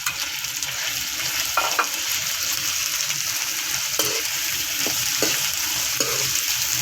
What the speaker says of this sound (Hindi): 2 से 3 मिनट फ्राई करेंगे ताकि इसका कलर चेंज हो जाए और ये सारा चिकन एक जैसा वाइट निकल आए